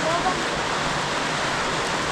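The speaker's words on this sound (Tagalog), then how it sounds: "Lakas ng ulan." Heavy rain pours down as a dense, steady roar of broadband hiss that fills the whole clip, loud and unbroken, with faint voices nearly buried beneath it.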